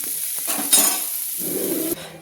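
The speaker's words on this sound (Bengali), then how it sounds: "দেখুন আমার সোয়াবিনগুলো কিন্তু হালকা হালকা ভাজা হয়ে গেছে" Soybean chunks frying in a pan, a soft sizzle broken by a few scraping stirs of a spoon against the metal.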